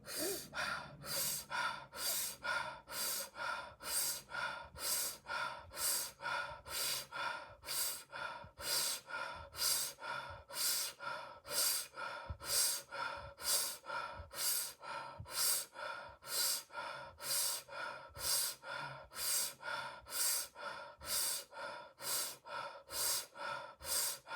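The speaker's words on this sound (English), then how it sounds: "So now we're going to do 30 breaths, starting now." During a breathwork exercise, a person takes a long series of deep, forceful breaths in a steady, even rhythm, each inhale and exhale clearly audible and close, with no talking.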